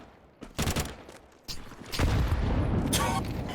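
Grenade explosion during a Counter-Strike match on the Overpass map, heard among loud bursts of game gunfire and blasts that lead into a sustained, dense rumble of noise.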